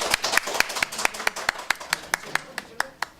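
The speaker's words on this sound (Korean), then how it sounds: "박수 주십시오." Audience clapping for a volunteer at a Korean book-talk lecture on writing self-introductions, a steady run of sharp, fairly close handclaps at a brisk, even rhythm, with a faint voice underneath.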